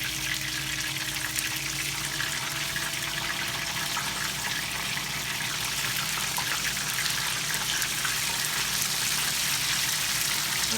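Tempura-battered cod frying in hot oil, a steady close-up sizzle and hiss that runs without a break, with a faint low hum underneath.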